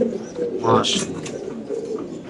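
A pair of black Lahori pigeons coo softly in a low, throaty burble, with a brief flutter partway through over a faint murmur of background noise.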